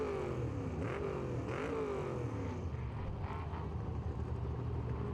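Off-road trucks racing through desert qualifying at a Toyo Desert Invitational prologue, engines roaring and revving with rising and falling pitch as they pass, a loud continuous mechanical drone throughout.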